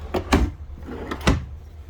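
Two quick sliding thumps of a storage drawer being pulled open and pushed shut in a 2017 Genesis Supreme 40SRSS toy hauler fifth-wheel trailer, close by in a quiet room.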